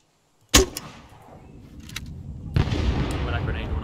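A grenade explodes in a Vietnam War shooter game with a sharp, loud crack, then a rumbling tail. A second burst follows about two seconds later, along with more rough combat noise.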